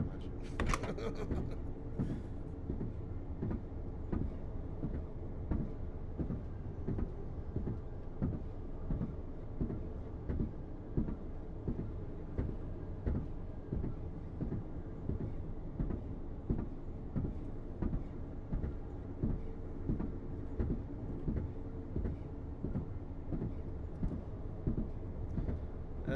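Train in Train Sim World 4 on the Northern Trans Pennine route, a steady rumbling run with regular rhythmic clacks from wheels over rail joints, continuous and fairly close, with a brief louder bump at the start.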